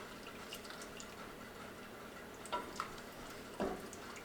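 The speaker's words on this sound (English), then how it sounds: "So let's give this a stir." A spoon stirring homemade sweet and sour sauce as it heats in a pan: soft, faint scraping and slosh, with a couple of small clinks against the pan and no talking.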